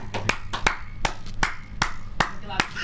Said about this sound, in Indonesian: Dia tepuk tangan sendiri ya gitu.